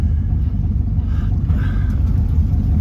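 A 1968 Mercury Cougar XR7 cruises at about 65 mph, giving a steady low engine and road rumble with wind noise, close and fairly loud, and nobody talking.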